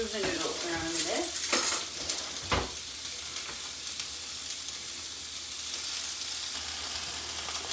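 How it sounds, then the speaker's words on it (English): Noodles for sesame peanut ramen pushed around a hot pan, a few clinks and scrapes of a utensil against metal over a steady soft sizzle, close and fairly quiet. "I'm going to move the noodles around a bit."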